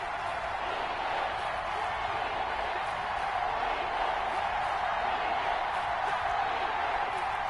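Steady crowd roar fills a stadium during a Madden football video game as a big third down approaches, a continuous broadband wash of cheering with no distinct breaks.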